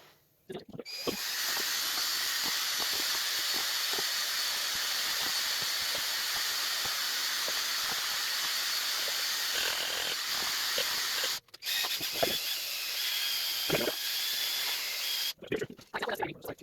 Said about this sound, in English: now for a good steady whipping